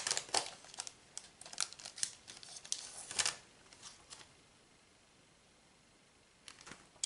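A plastic package of sparkly ghost stickers is crinkled and torn open up close, in bursts of rustling over about four seconds, then a quiet pause before a brief final rustle.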